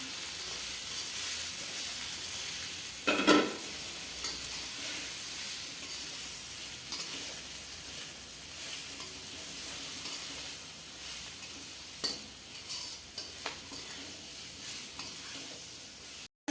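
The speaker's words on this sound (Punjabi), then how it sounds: "ਲੋ ਫਲੇਮ ਤੇ ਰੱਖ ਕੇ ਮਿਰਚਾਂ ਨੂੰ ਹਲਕਾ ਹਲਕਾ ਹਿਲਾਉਣਾ ਜੀ" Green chillies for pickle fry over a low flame in a pan, giving a steady close sizzle throughout, with a louder scrape of stirring early on and occasional light clinks.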